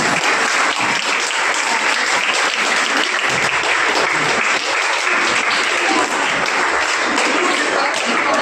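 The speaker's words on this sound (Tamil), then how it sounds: "இந்த பள்ளிக்கு ஒரு சிறந்த கை கரகோஷத்தை மாணவர்கள் கொடுங்க" Students giving a loud, sustained round of applause for a school at a Krishna Jayanti school competition in Chennai, dense clapping filling the hall evenly from start to finish, close and unbroken.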